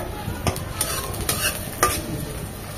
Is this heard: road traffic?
no